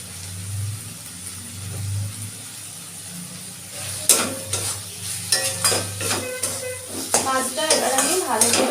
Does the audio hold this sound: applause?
no